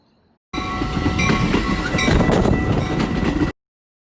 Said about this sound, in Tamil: இப்போ நம்ம ட்ரெயின் வந்துச்சு